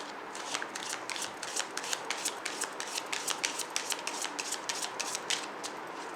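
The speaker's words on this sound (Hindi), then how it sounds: "एक और कार्ड निकाल देते हैं" Tarot cards shuffled and drawn by hand, giving a run of quick, crisp papery flicks and riffles in a steady rhythm, close up and fairly soft, with no talking.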